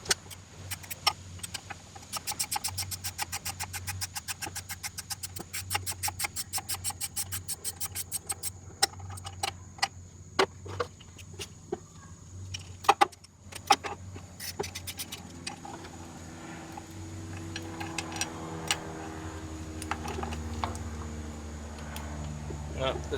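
A ratchet wrench works 14mm bolts off the AC compressor mount in a Jeep XJ engine bay, giving rapid bursts of close ratcheting clicks, followed later by a faint voice over a low hum.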